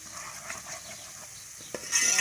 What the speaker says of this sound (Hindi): अब इन सब चीज़ों को एक साथ ब्राउन कर लेंगे।